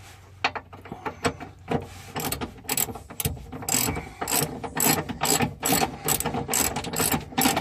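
A ratchet clicks in quick, uneven bursts as it tightens the bolts of a hitch bar on a Jeep Grand Cherokee, the close, sharp pawl clicks growing more regular toward the end.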